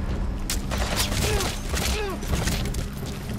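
Gunfire exchange in Metal Gear Solid V: The Phantom Pain, with rapid, loud bursts of shots and mechanical clatter over a dense rumbling game soundscape, punctuated by brief whistling tones.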